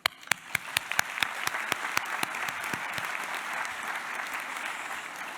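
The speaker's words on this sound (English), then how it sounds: "we will applaud you" Applause at a University of Pretoria School of Healthcare Sciences declaration ceremony: a few loud, distinct claps up close at first, then a fuller audience clapping that holds steady and fairly even.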